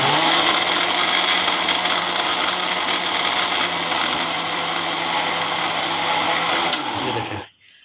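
A blender grinds raw green mango spicy chutney with a loud, steady motor whine that runs unbroken for about seven seconds and then cuts off and winds down abruptly.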